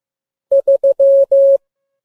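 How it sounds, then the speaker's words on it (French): Morse code for the digit three plays as a clean mid-pitched tone: three short beeps followed by two long ones, evenly spaced and loud against silence. "il a pour code morse 3 sons brefs, suivi de 2 sons longs"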